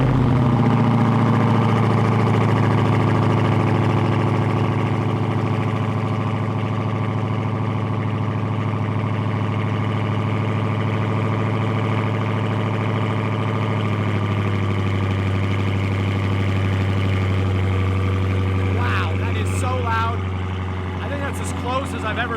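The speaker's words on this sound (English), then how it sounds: "So here we are getting ready to do a cold start on the Red Eye." Dodge Challenger Red Eye with a GT Haas exhaust idling after a cold start, a loud steady low rumble holding throughout, with voices talking over it near the end.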